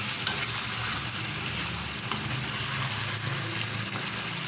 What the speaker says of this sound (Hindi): फिर एक बार चमचा चलाऊँगी ताकि प्याज अच्छी तरह से इसमें गोश्त में और मसाले में मिक्स हो जाए।